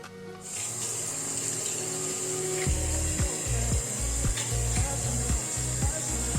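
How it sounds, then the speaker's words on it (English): Water runs steadily from a tap into a sink while someone rinses their face in a luxury apartment bathroom, a constant hiss with wet, rhythmic splashing and rubbing as hands scoop water. "when I apply water, it starts to lather and foam. So I'm just going to rinse this off"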